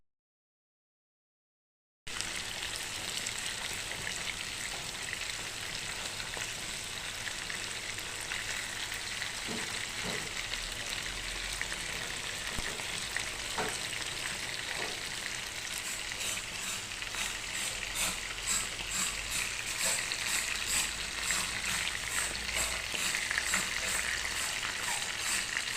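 Fish fries in a pan in a home kitchen, giving a continuous, even sizzle and crackle close by that starts abruptly and runs unbroken with no talking.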